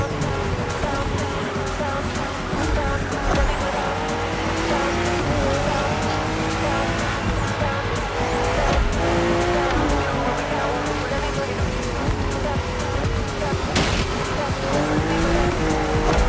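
A BMW M4 CSL is raced hard in The Crew Motorfest, its engine roaring steadily while tires squeal repeatedly through corners, loud and continuous throughout.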